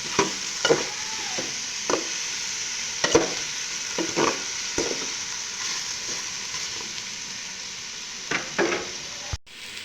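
Pork sizzles steadily in its own rendered fat, with occasional scraping stirs and clacks of a utensil against the pan, close and continuous.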